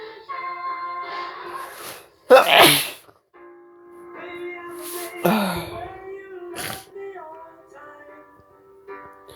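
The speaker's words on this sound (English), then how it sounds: "This is why it's making me sneeze." A person sneezes repeatedly after a dose of sneezing powder, with several loud, sharp bursts separated by quieter gaps and faint background sound.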